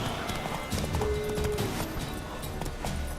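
Horse hooves clip-clopping with a neigh, from a horse in The Witcher 3 video game, steady and moderate amid in-game background sound.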